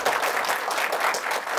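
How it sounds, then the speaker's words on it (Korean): Audience applause at a book talk event, a dense, even burst of many hands clapping close and loud throughout the short stretch. "박수 부탁드립니다."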